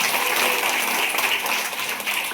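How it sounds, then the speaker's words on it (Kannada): A church congregation claps together during a pastor's sermon, a dense, fairly loud burst of hand claps that holds steady for a couple of seconds and eases off slightly at the end. "ಚಪ್ಪಾಳೆ ತಡಬೇಕು"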